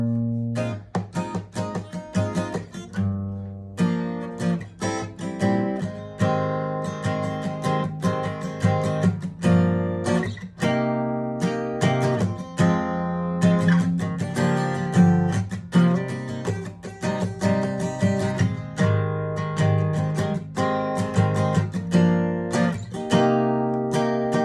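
Acoustic guitar playing the chorus of a song with minor seventh chords, a steady strummed and picked pattern with ringing chords, close and moderately loud, with no talking.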